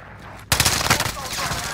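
Video game shootout gunfire begins after a short quiet moment as a sudden burst of rapid shots, then a dense rattle of fire continues under a faint voice.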